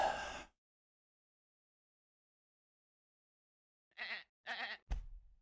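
Sheep bleat in a few short, clear calls near the end, two quick bleats and a sharp final cry, following a brief sound at the start and a long silent gap.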